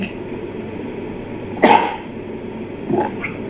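During a CNC milling lesson, a single sharp sneeze bursts out over a steady workshop hum, followed about a second later by a smaller breathy sound.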